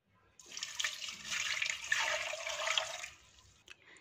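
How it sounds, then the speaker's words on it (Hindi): Onions are rinsed in water for about three seconds, a close, splashing swish of water with light sloshing before it settles into quiet. "उसके बाद इसे 3-4 पानियों में अच्छी तरह से धो लेंगे।"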